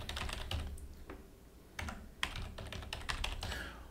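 A password goes in on a computer keyboard, quiet close key clicks in short irregular bursts with brief pauses between them.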